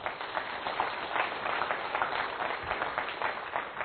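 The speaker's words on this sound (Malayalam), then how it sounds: "ഒന്ന് കൈയുയർത്തി കൈയടിച്ച്" A church congregation claps hands together in a steady, dense patter of many palms, moderately distant and sustained throughout without speech.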